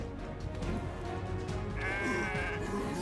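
A goat bleats in Kenshi, one wavering bleat rising above a dense, loud backdrop of battle and ambient game noise.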